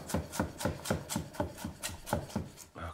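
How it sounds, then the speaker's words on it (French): A knife thinly slicing a quartered carrot on a cutting board for mirepoix, a steady run of about ten crisp, even chops close up, with no talking. "Je coupe ma carotte en quatre et je l'émince assez finement."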